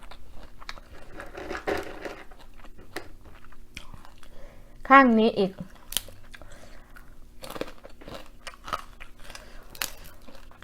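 Someone bites and chews steamed shrimp with papaya salad, giving scattered close crunches and wet chewing clicks, with brief speech in between.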